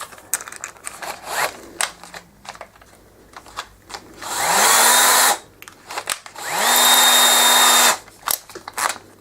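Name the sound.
power drill enlarging hole in Xbox 360 controller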